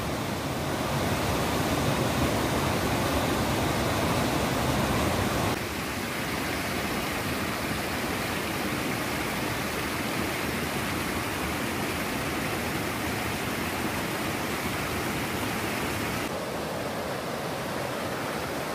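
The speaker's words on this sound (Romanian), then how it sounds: "O mini cascadă." Small mini waterfall on a wooded trail near Poiana Mărului, Caraș-Severin, giving a steady, full rush of flowing water that softens partway through and then swells again, with no voices.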